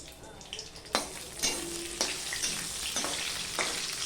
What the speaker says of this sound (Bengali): রাঁধুনি আর লঙ্কাটা আমি ফোড়নে দিয়ে দিলাম দিয়ে দিলাম তেজপাতা